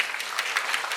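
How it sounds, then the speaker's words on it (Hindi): Audience applause at a live Hindi poetry quiz event, a short burst of many hands clapping in a dense, even patter, heard alone. "बहुत खूब, तालियां बजाइए इनके लिए"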